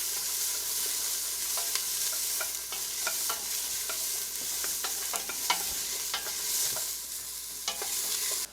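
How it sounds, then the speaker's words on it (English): Onions soften in olive oil in a pan for a vegan chili, giving a quiet continuous sizzle broken by frequent small spatula scrapes and taps, with no voices. "I like to saute them for a couple minutes"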